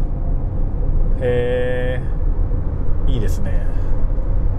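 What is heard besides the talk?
Toyota RAV4 PHV accelerating on electric motor only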